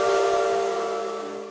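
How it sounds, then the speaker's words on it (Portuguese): A steam locomotive of the Madeira-Mamoré railway in Brazil sounds its whistle in one sustained, loud, harmonic blast that slowly fades out, heard alone. "E o trem apitou pela última vez."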